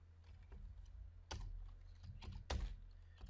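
Typing on a computer keyboard while writing PL/SQL code: soft, irregular keystrokes close by, with a few louder clacks standing out against a low background hum and no talk.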